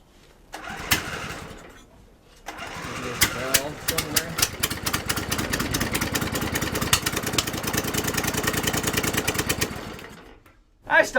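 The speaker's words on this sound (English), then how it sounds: "It's a brand new engine right from the factory." A brand new factory engine starts, then runs steadily with a rapid, rough mechanical chatter, loud and close, before cutting off near the end.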